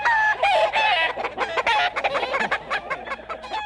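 A flock of chickens at a farm raising gamecocks, brood hens and stags keeps up a dense, busy chorus of clucks and squawks close by, with overlapping calls throughout.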